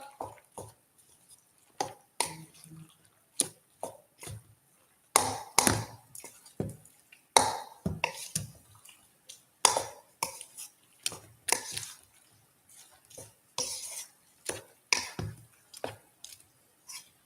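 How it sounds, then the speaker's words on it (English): Macaroni being mixed with a spoon in a bowl, giving a run of quick, moist tapping and scraping strokes in irregular bursts, close by with no voices. "I'm just going to take the spoon. Let's mix all this up"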